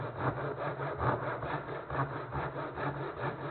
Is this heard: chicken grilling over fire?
no